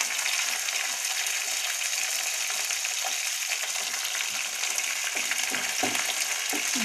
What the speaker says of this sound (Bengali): এখন আমগুলোকে ভালো করে নেড়ে চেড়ে কিছুক্ষণ ভেজে নেব